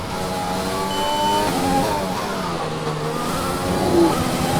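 A Formula 1 race car engine in the F1 2020 video game drones steadily and loudly throughout, holding a high, buzzing whine with slight shifts in pitch.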